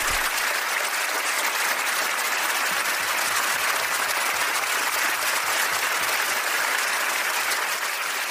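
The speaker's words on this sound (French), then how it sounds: "nous l'applaudissons très fort, avec tout notre amour" A congregation at a Bible study gathering applauds warmly, a dense continuous wash of clapping that holds even and steady throughout, with no voices.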